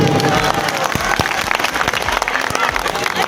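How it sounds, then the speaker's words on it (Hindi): An audience at a Delhi election rally for AAP MP Sanjay Singh claps vigorously, a dense, loud burst of applause with sharp individual claps standing out, close and sustained throughout. "एक बार जोरदार ताली अपने लिए बजा दीजिए सब लोग।"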